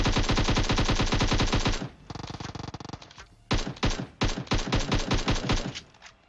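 Automatic gunfire in the mobile shooter game PUBG Mobile, loud rapid bursts of machine-gun fire in long volleys with a short pause, then more clipped bursts, no voices.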